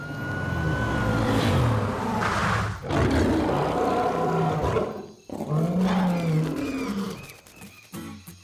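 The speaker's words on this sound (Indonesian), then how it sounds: "Dengar itu, semua singa, harimau, cita, dan jaguar memberi hormat kepadamu." Big cats (lions, tigers, cheetahs and jaguars) roaring together in a cartoon setting, a loud sustained chorus of roars that breaks off briefly around the middle and then swells again before fading.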